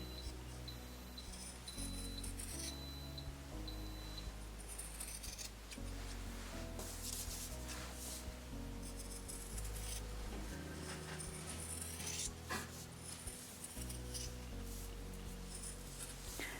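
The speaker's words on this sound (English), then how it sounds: "we're supposed to trim the seam." Scissors trimming the seam of a cotton blouse with 3/4 sleeves, a series of quiet crisp snips and fabric rustles spaced irregularly throughout, close and faint with no talking.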